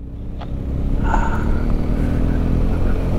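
Truck passing on the road, a close, steady low rumble of engine and tire noise that swells briefly and holds without speech.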